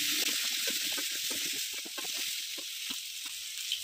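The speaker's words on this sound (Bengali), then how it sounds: "দিয়ে একটু ভালো করে নুন হলুদ দিয়ে সবজিগুলোকে ভেজে নিচ্ছি।" Mixed vegetables with salt and turmeric frying in hot oil for Bengali shukto, a steady close sizzle broken by soft stirring scrapes and clicks.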